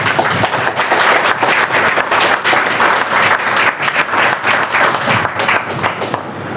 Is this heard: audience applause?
yes